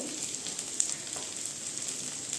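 Curry leaves hit hot oil with lightly fried capsicum, giving a steady, faint sizzle and crackle with a few sharp pops, close and without talk.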